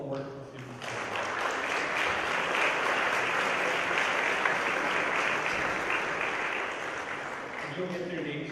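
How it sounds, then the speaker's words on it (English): A crowd applauds steadily for several seconds, loud and sustained clapping that rises and then fades, with brief talk at the start and end. "So really a round of applause for all the work the students have done."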